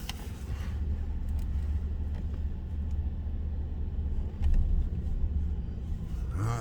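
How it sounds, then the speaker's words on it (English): A car drives slowly down Clubhouse Road in Lakeland, Florida, pulls in and turns around, its steady low engine rumble and road noise continuous from inside the cabin, swelling slightly partway through. "I'm gonna drive in here and turn around."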